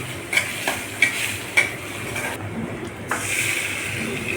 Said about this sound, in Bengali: পেঁয়াজ কুচি ভেজে নেওয়া হচ্ছে